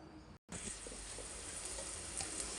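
Carrot curry frying in a pan, a bright, dense, steady sizzle that stays loud and even after one very short break near the start.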